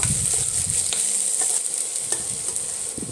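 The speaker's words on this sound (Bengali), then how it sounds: "পেঁয়াজগুলোকে লাল লাল করে ভেজে নেব" Onions frying in oil in a wok (kadai), a bright continuous sizzle with a few scraping stirs of a spatula, close and fairly loud.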